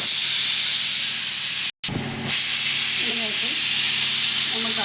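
Mutton frying in oil with spices for a pepper soup, a loud close steady sizzle and hiss with a brief drop-out partway and stirring scrapes after.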